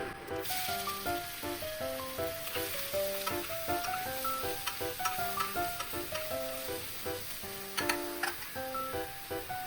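Cumin seeds and chopped onion fry in hot oil with a steady, close sizzle that runs throughout, partly under a melodic music backing.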